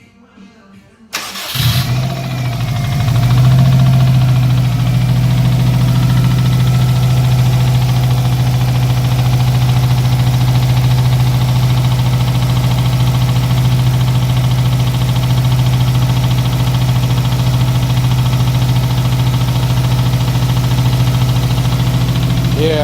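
A JDM-swapped Subaru WRX engine cranks and catches after a short silence, then settles into a loud, steady rough idle with a persistent knock running the whole way through.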